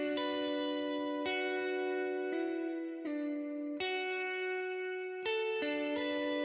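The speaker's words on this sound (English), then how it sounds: "this is the effects I have on this guitar" Sustained guitar chords drenched in Valhalla reverb and delay ring out one after another, each change blooming into a long, washy tail with no pauses between them.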